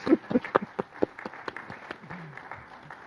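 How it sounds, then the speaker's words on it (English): Brief applause at a Hall of Fame induction ceremony, a handful of close, distinct claps at first that thin into lighter, scattered clapping, with a low voice briefly audible beneath. "that's worth a round of applause"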